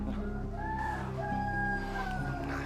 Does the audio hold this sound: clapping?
no